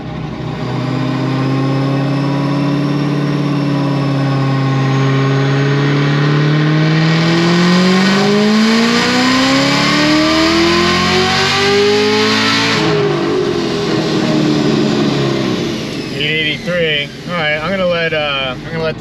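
A supercharged LT4 engine in a Chevrolet Camaro ZL1 revs loudly on a dyno pull, rising in pitch with a blower whine before dropping back to a rough, throbbing idle at the end.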